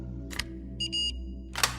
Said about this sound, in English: The red light on the reader turned green and beeped, followed by a click.